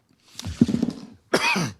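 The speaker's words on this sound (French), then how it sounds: "Excusez-moi, c'est la toux." A single close, rough cough bursts out, followed a moment later by a harsher second cough.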